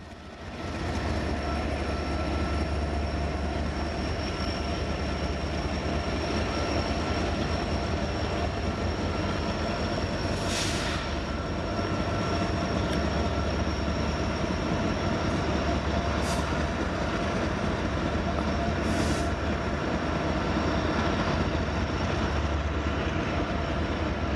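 A freight train rolls steadily past nearby with a BNSF ES-44DC locomotive running as distributed power at the end, giving a continuous rumble and rail clatter with a few brief high wheel squeals.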